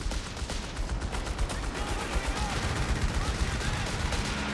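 A strafing run in Company of Heroes 3 unleashes continuous rapid automatic fire, a dense unbroken rattle of shots that stays loud and close throughout, with a voice faintly underneath.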